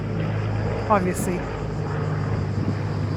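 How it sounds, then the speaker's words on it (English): A red and yellow Canadair firefighting plane drones overhead during a wildfire near Athens, a steady engine roar filling the background while a voice says a single brief word. "Okay, that's one of the Canadair planes."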